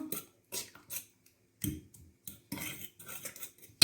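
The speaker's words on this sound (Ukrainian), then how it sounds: "Зараз ми все добре розмішуємо" Dough of pumpkin, oil and sugar being stirred in a bowl, heard as a series of short scraping clinks of a utensil against the bowl in irregular bursts, close and fairly quiet with pauses between.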